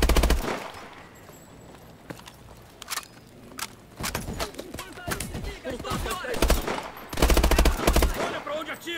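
Gunfire in the video game Call of Duty Advanced Warfare, sharp bursts and single shots at close range, with scattered impacts and movement between them and some talking.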